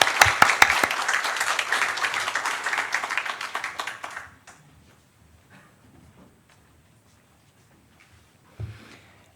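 A church congregation at a founding service applauds with a dense burst of clapping for about four seconds, then falls quiet with faint rustles and a brief thump near the end.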